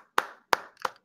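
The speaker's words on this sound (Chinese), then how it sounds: "他这个好逃跑画面，我想要一直拍手" Three sharp hand claps from a clapping emote in Monster Hunter World, evenly spaced and crisp, standing alone against silence.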